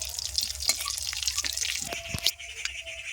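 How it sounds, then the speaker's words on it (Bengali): Bay leaves, dry red chillies and five-spice tempering in hot mustard oil, a steady crackling sizzle with a few light pops and a short clink of a utensil near the end. "সরিষার তেল দিয়ে দিয়েছি দুটো তেজপাতা দুটো শুকনো লঙ্কা আমি দিয়ে দিচ্ছি গোটা ডিয়ে দিয়ে দিচ্ছি পাঁচ ফোড়ন দিয়ে দিচ্ছি ফোড়নটা করে নিচ্ছি প্রথমে"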